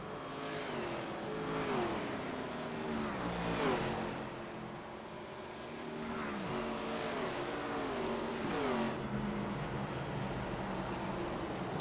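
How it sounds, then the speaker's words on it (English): Race cars in a simulated Daytona International Speedway event roll down pit road in a sim-racing game, engines rising and falling through repeated shifts in a steady droning chorus, moderately loud and without talk. "as they come down pit road here this time, and they'll go back right up onto the banking"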